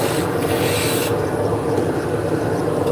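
A skew chisel shaves a spinning wood blank on a lathe while shaping a finial, making a steady rasping, rubbing hiss that briefly brightens in the first second, with the lathe's low hum underneath and no talking.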